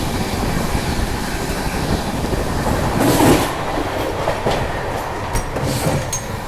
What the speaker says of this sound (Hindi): ट्रेन बिल्कुल 130 की रफ्तार में चल रही है।